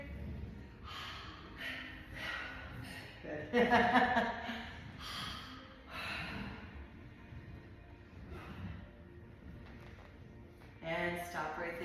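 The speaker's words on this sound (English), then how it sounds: "I want to hear some heavy breathing." Heavy breathing comes through during a ball Pilates workout: soft, fairly quiet exhales, puffs and gasps at an uneven pace, with a brief spoken word from the instructor.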